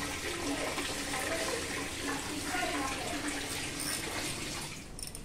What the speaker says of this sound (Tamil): போதும் தண்ணி நிறைஞ்சிருச்சு.